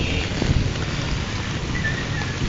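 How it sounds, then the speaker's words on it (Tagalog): Heavy rain and strong wind outdoors near a bridge during a storm, a dense, steady roar with wind buffeting the microphone and no voices. "Sa ngayon, patuloy pa rin ang ulan. Malakas ang hangin."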